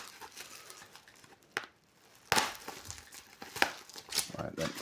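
Packing paper crinkles and rustles in irregular bursts, with a few louder crackling handfuls up close and quieter shuffling between them.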